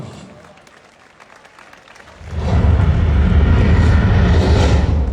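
Crowd applause at the Adana 1954 FK football club season-opening event, starting as a low murmur and then swelling abruptly into loud, dense, sustained clapping and cheering that fills the rest of the moment.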